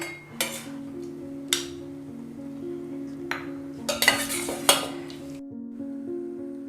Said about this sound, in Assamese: এই বাটিত মই গ্ৰীন কালাৰ মিলাওতে চামুচেৰে ভালকে মিলাই দিলো